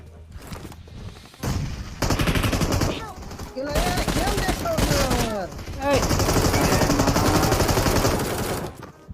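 Rapid gunfire in the battle-royale video game PUBG, sustained loud bursts of automatic shots with short pauses, while players talk over the shooting.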